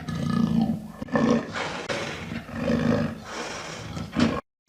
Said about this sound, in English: Black panther is the melanistic color variant of the